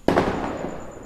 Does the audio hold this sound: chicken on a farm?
no